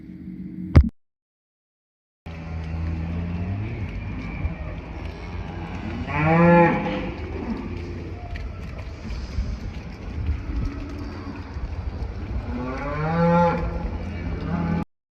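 Cattle on a family farm moo twice, long drawn-out calls spaced several seconds apart over steady wind noise outdoors, after a brief knock and a moment of silence at the start.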